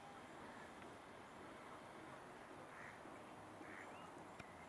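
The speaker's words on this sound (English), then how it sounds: "Some interesting bird sounds coming from the lake as well." Birds call faintly from a lake, several brief chirps and quacking notes rising above a steady wash of outdoor background noise.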